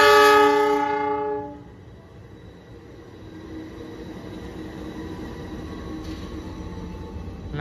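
Harina train locomotive shunting at Cikampek station, opening with a loud horn blast that fades out, followed by a steady rumble of rolling stock and a faint metallic squeal.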